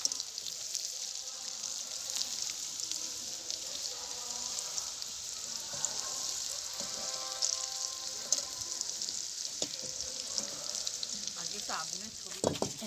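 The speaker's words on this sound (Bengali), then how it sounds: "এরপর মা গরম তেলের মধ্যে তেজপাতা ফোড়ন দিয়ে নিয়েছে।" Bay leaves crackling in hot oil in a pan over an outdoor wood fire at a picnic, after vegetables were fried; a faint, steady sizzle with scattered pops and clinks in the background.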